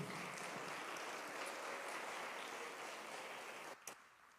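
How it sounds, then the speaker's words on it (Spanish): A church congregation claps together during a sermon, a faint, dense, even wash of applause heard from a distance that cuts off abruptly near the end. "Vamos, denle un aplauso a Cristo."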